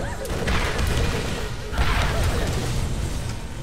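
Loud explosions in the video game Borderlands, two heavy bursts of crashing noise about a second apart, layered over continuous game action with a rumbling low end.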